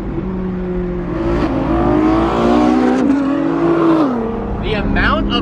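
A Bugatti Chiron supercar cruises along a Los Angeles street with a steady, loud engine drone that rises and falls in pitch, heard close amid street noise while people talk over it.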